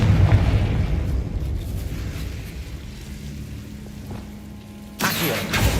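Confringo spell explosions in a Hogwarts video game, a low rumbling blast bed with a sharp, loud burst erupting near the end.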